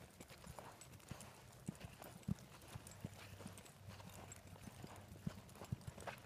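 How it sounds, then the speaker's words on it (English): Hooves of a young, barely ridden colt clip-clop steadily as it is ridden around a circle, a close, even rhythm of soft thuds repeating alone without talk. "This horse hasn't had many rides."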